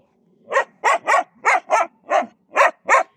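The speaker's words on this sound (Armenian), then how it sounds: "տեսեք ոնց է հաչում" A dog barks eight times in a steady, fairly even rhythm, loud and close, with no other sounds between the barks.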